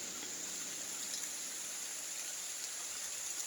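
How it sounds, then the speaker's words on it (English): Spring rain falls steadily beside a rock cave in rural Jamaica, a soft, even hiss of drops running without break, with no voices. "What a nice spring rain, my God."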